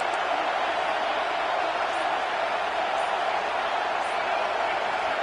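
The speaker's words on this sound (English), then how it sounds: "this crowd is getting behind this defense" Football stadium crowd noise during a big third down in the red zone, a steady, dense roar from a distant crowd, sustained without clear peaks.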